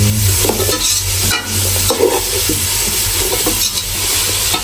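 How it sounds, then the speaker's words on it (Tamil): Chopped leaves stir-fried in a pan, with a steady loud sizzle under repeated scraping and stirring strokes and a few clinks of the utensil against the pan, all without talk. "லீப்ஸையும் ஃபுல்லாக போட்டுருவோம் போட்டுட்டு அதையும் நல்லா வதக்கிடுங்க"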